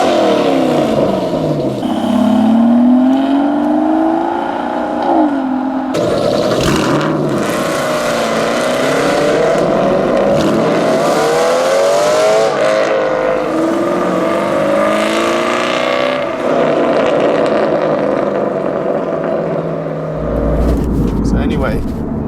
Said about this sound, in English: Aston Martins do sound very good.